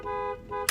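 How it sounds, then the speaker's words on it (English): A 1991 Mercedes S-Class town-and-country horn sounds two sustained, close honks with a bright layered tone, then a short sharp blast. "One of the cool things I think about the town and country horn is that you can make it seem like more people are honking if you need to"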